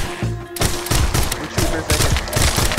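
Rapid gunfire bursts from the VR zombie shooter Arizona Sunshine, repeated loud shots in a steady rhythm across the whole stretch, with a brief quieter lull at the start and a voice partly mixed in.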